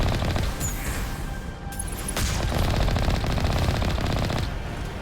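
Rapid sustained automatic fire from a turret in the Mass Effect game, a dense, loud chattering burst running almost continuously throughout with sharp metallic crackle on top.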